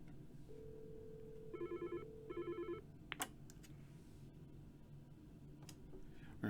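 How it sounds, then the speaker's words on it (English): Desk office telephone ringing with an incoming transferred call: two short bursts of electronic ringing, preceded by a steady tone and followed by a click of the handset, in a quiet room. "So we're going to send a call back over to this phone again."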